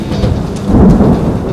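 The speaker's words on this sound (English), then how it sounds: "It's almost impossible to predict when a tropical storm will hit." Tropical monsoon thunderstorm in Singapore, heavy rain roaring steadily with deep rumbling thunder swelling in the middle, loud and dense throughout.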